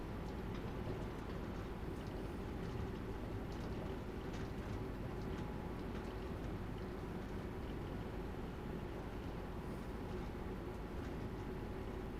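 London Underground Bakerloo line train running in the Train Sim World 2 video game, with a steady dense rumble of wheels and motors, loud and unbroken, without talk.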